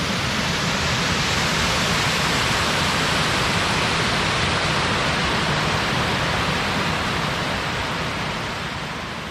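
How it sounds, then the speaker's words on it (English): Arrow Falls, a waterfall on the trail near Mount Marcy, roars as a steady, loud, broadband rush of falling water that holds constant from start to finish with no voices. "Waterfall was worth the stop."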